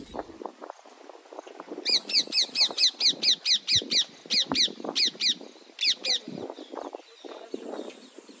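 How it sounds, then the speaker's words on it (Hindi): A flock of parrots perched in the trees beside Foy Sagar lake in Ajmer gives a rapid run of shrill, repeated squawks in the middle, with softer chatter and background noise before and after. "यहाँ जितने भी पेड़ हैं इन सब पे तोते बैठे हुए हैं, बहुत ज़्यादा हैं।"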